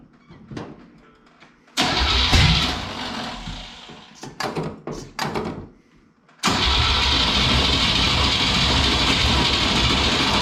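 An old truck engine cranks in several stuttering bursts, falters, then catches and settles into a loud, steady running roar, all close by.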